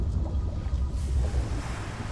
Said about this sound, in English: Door shuts as the water goes up.